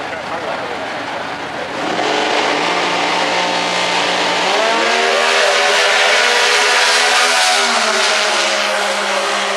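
A drag race car launches and accelerates hard down the strip at a bracket racing event in Pomona, California: a loud, close engine roar climbing in pitch, with an upshift midway, sustained and dominating.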